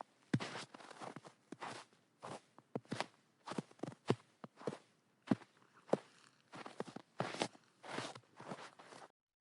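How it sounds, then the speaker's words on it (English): Footsteps crunch through snow toward a tent at a campsite, a steady run of about twenty close, quiet crunching steps with no voices. "she could hear footsteps in the snow approaching"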